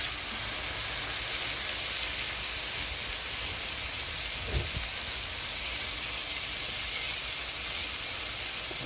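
Steak seasoned with garlic salt sizzling in olive oil on a griddle, a steady broadband hiss with a brief low thump midway, no talk.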